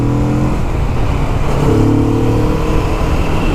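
A cruiser motorcycle revs hard on a 0 to 60 run, its engine note climbing through gears in a loud, continuous, close-up roar without talk.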